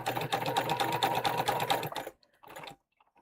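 A sewing machine runs fast rhythmic stitches along the seams of a Fieldstone tote bag with a partly filled bobbin, stopping abruptly after about two seconds, followed by a brief second burst.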